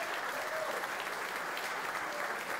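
A packed room at a boxing event in Belfast applauds a guest, steady dense clapping that runs unbroken from start to finish, loud and close with no break.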